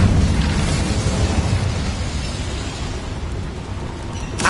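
A cast of the Incendio fire spell in Hogwarts Legacy gives a dense, roaring fiery whoosh. It is loud at the start and fades to a steady rumble, with a brief flare at the very end.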